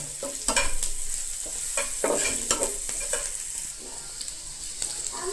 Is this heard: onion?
yes